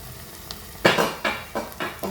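A chicken mixture stir-fried in a pan for a Sri Lankan chicken kothumai dish, with five scraping stirs at a steady rhythm over a soft, constant sizzle.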